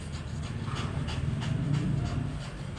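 A small Shih Tzu dog pants steadily in quick, rhythmic breaths up close, with a low rumbling background underneath and no talk.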